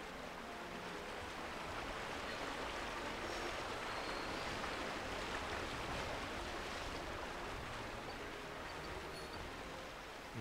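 Steady, full rushing of river rapids in New Pokémon Snap, a constant broad roar of churning water holding at an even level throughout with no voices.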